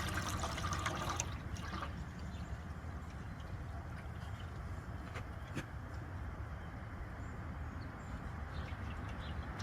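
Fluid from a 1948 Farmall H tractor drains steadily into a pan, a faint continuous trickle and splatter with low background rumble and a few small clinks, no voices.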